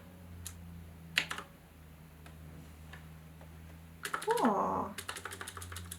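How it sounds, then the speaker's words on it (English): Typing on a Qwerkywriter typewriter-style keyboard connected to a laptop: scattered single key clicks, then a quick burst of rapid clacks, with one brief spoken word partway through. "today I kind of set up my new keyboard for my laptop"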